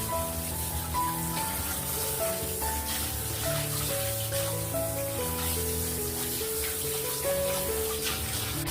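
Vegetables rinsed under a running kitchen tap, a continuous close splashing wash of water throughout, while tonal music plays underneath.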